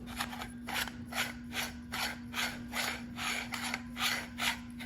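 A screw driven into a metal extendable projector ceiling mount, heard as a close, steady series of rhythmic rasping turns with a constant low hum underneath.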